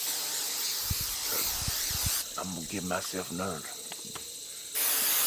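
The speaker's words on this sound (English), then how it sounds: "I really like that Sawyer's came out with the aerosol can instead of that real heavy spray." Sawyer's insect repellent sprayed from an aerosol can outdoors in early-season Kentucky bowhunting country: a loud, steady hissing burst at the start and another at the end, with someone talking between them.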